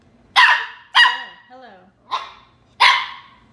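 A young dog barks four times in short, sharp yips, close and loud, with a brief whine between barks and a single spoken word.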